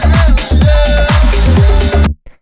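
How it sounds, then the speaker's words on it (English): A punchy, solid layered tech house kick drum sample thumps in a steady pattern under a full, dense mix, then cuts off abruptly near the end. "just a really good kick sample that I've layered already to sound really solid."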